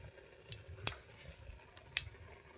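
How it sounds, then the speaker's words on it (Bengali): Whole spices tempering in oil in a wok where eggs were fried earlier, a faint steady sizzle broken by a couple of sharp utensil clicks against the pan, close, with no talking. "কড়ার মধ্যে আমি আগে একটু ফোড়ন দিয়ে দেবো ফোড়ন দিয়ে দিয়েছি"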